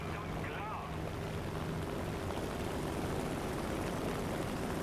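Propeller engine of a Razorback P-47 fighter droning steadily through takeoff and climb in War Thunder, a continuous loud hum with wind-like rush and no pauses.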